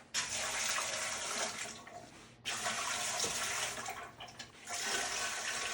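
Tap water gushes steadily into a canning pot to fill it with three quarts for home-canning mushrooms, loud and close, with one brief break just before halfway and a dip near the end before the flow resumes.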